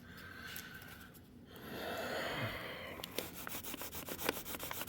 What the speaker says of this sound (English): Okay, I'm down to the wet sanding process.